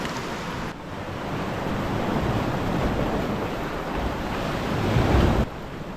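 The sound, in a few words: sea waves on the Durham coast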